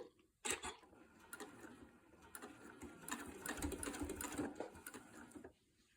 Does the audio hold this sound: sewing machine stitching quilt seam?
yes